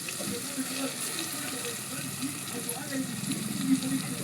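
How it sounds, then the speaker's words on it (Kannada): Water splashes and runs as a mixer jar is rinsed and poured into a pan while fish sambar is cooked: close, uneven trickling and swirling with faint background sizzle. "ಜಾರ್ ತೊಳೆದು ನೀರು ಹಾಕ್ರಿ."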